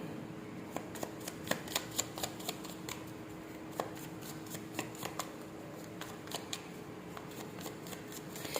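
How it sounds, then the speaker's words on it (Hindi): Tarot cards being shuffled during a reading: soft, crisp riffles and light taps recur irregularly throughout, quiet and close, with no talking. "देखते हैं क्या कार्ड निकल के आते हैं"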